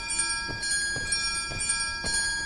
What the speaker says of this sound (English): Here it comes. The bell sound.